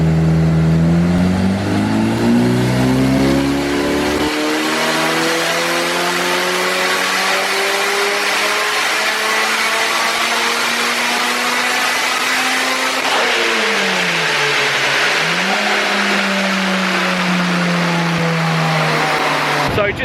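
A modified Mitsubishi Evo 7 engine revs hard and steadily on a rolling-road dyno, its pitch climbing and holding in a sustained loud drone, dipping briefly before rising again.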